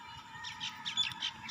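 Pigeons in a home loft call in short bursts of squawks and coos, a cluster of overlapping bird voices rising and falling close by over a steady hum, with no talk.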